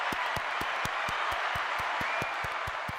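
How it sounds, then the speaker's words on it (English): An audience at a live show applauding, a steady wash of clapping held at an even level from start to finish, with no voices over it. "One more round of applause for you."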